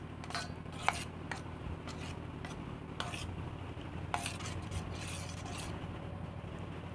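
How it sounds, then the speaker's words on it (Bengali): A spoon stirs soaked semolina in a bowl, giving quiet, irregular scraping and a few sharp clinks against the rim. There is a low steady background hum and no speech. "এভাবে চামচের সাহায্যে নেড়ে চেড়ে মিশিয়ে ঢাকনা দিয়ে ঢেকে রেখে দেব 10 মিনিটের জন্য।"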